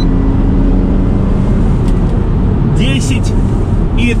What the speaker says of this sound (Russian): Вот, вот это уже разгон, вот это уже нормальное ускорение.